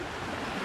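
Water rushing steadily in a mountain river in Crimea, a brief continuous broadband roar with no voices.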